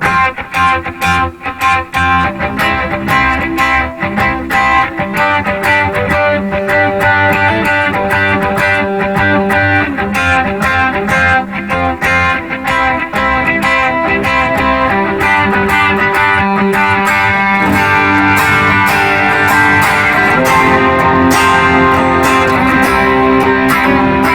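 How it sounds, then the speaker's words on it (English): An electric guitar played through an overdrive pedal patch on a pedalboard, with steady, strummed, driven chords that ring loud and continuous throughout. "I've got a nice little overdrive going on here"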